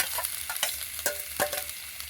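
A spiced mixture with boiled, hand-mashed potatoes is stirred and fried in a pan, giving a close sizzle broken by several brisk scraping strokes of a spatula.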